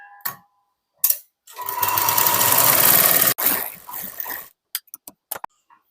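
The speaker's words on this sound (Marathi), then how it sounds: "या ठिकाणी आपल्याला हे अस्तरचं मार्जिन खाली सोडून वरतून दाब टीप देऊन घ्यायची आहे." A sewing machine stitches lining onto a blouse, running in a steady close whir for about two seconds, with short taps and clicks of fabric handling before and after.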